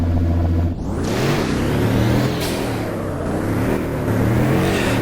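Pagani supercar engine in the Roblox game Driving Empire, a loud continuous synthetic engine drone that dips briefly, then climbs and holds steady as the car drives.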